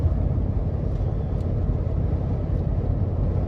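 Steady broadband wind roar inside a moving Mercedes G Class AMG63 SUV, a constant low rushing hiss with road rumble beneath, even and unbroken throughout with no talking.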